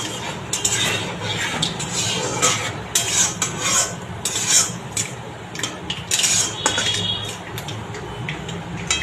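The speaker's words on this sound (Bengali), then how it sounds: "এটা একটু ফোড়নটা ভাজা হোক।" Whole mustard seeds and dried red chillies sizzle in hot oil in a pan, with the oil crackling continuously under repeated clinks and scrapes of a spatula against the metal.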